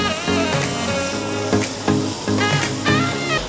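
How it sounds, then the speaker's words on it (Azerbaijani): Plain marinated beef sizzles and fries on a Korean barbecue grill at a restaurant in Baku, a loud, continuous close-up hiss with a few sharper pops and spatters. "Götürək ətlərimizi bişirək."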